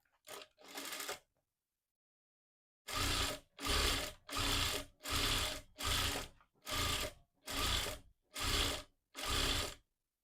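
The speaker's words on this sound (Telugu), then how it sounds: "ఈ విధంగా క్లాత్ మొత్తాన్ని స్టిచ్ చేసుకోండి." A sewing machine stitches cloth piping onto an old blouse neckline: two short bursts, a pause, then a run of eight even, loud mechanical whirring stitch bursts separated by brief silences, with no voices.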